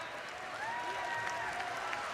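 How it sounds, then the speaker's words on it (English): Fans applaud a player at a juniors Final Four college basketball game, a steady wash of clapping and crowd noise from a large arena with commentary voices talking over it throughout. "He's being applauded by the fans."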